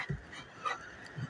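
Puppy whimpering with soft short whines and faint panting breaths, close but quiet, in a home setting.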